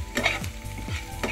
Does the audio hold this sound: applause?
no